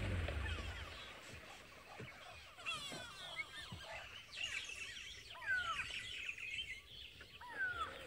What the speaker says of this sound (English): you can hear that the birds, they are giving a serious alarm call